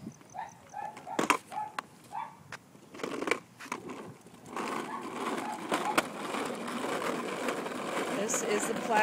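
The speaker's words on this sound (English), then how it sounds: "This is the plasma car." A child rides a plasma car ride-on toy, its plastic wheels rolling and rumbling steadily across the floor, growing louder over the second half, with people talking over it.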